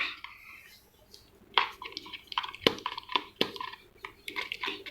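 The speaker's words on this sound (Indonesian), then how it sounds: "Aduk sampai dia merata." A fork stirs a slime mixture with added water in a bowl, giving scattered clinks and scrapes that come in irregular bursts, moderately close and fairly quiet, with no voices.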